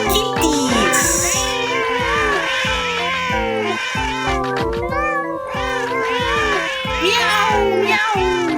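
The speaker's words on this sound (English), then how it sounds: "So many cats, lol." Many cats meow repeatedly and overlap, some drawn out into caterwauling cries, loud and close, with children's voices and chatter mixed in underneath.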